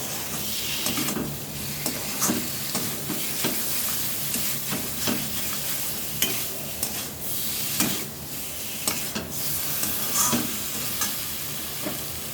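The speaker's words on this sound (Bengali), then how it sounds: "লবণ দিয়ে ভালোভাবে এটা আমি একটু কষিয়ে নেব।" Fish curry masala with salt is sautéed in a pan, with a steady sizzle and frying hiss broken by occasional scrapes and stirs of a spatula.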